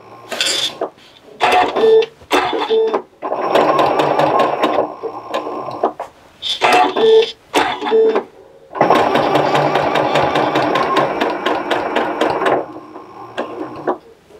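A domestic sewing machine stitches fabric for a hanger cover in bursts of rapid, rhythmic needle clatter, several short runs and two long ones, loud and close, with pauses between and little talk.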